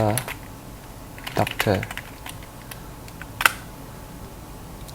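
Scattered keystrokes on a computer keyboard, a few quick clicks and taps spread across a quiet room, with soft speech in the background.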